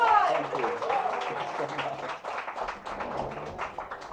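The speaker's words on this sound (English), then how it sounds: "please help me welcome with a huge round of applause the very hot, sexy, sassy Madhvan" An audience at a health and nutrition magazine cover launch applauds to welcome R Madhavan, a dense patter of clapping running steadily under loud voices and cheering.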